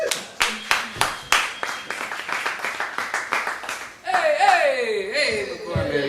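About a dozen sharp hand claps from one person at a comedy night in McCormack's Irish Pub, Richmond, Virginia, evenly spaced, followed by someone speaking loudly into a microphone.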